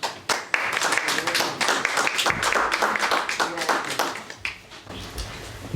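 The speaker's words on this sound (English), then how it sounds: "Please give a warm applause for Rebecca Pina" Warm audience applause welcoming a speaker to the stage at an event: scattered, distinct hand claps forming a moderate round with some voices mixed in.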